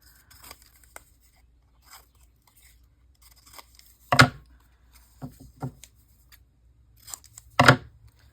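Scissors trim a paper piece for a junk journal, a few sharp crisp snips close by, separated by quiet stretches with faint paper rustles and small clicks.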